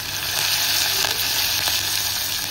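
Ginger, garlic, curry leaves and a pinch of asafoetida sautéing in a hot pan, a loud close continuous sizzle with faint stirring clicks and no voices.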